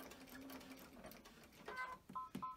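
Sewing machine slowly stitching stretchy fabric binding with a shortened stitch, a quiet steady rattle that slows and then gives way to a few separate clicks and short mechanical bursts.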